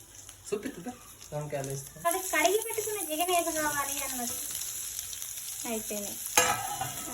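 Chopped ivy gourd fries in a hot tempering of oil and spices, making a constant hissing sizzle while someone talks over it for most of the clip. A sharp scrape or clatter comes near the end.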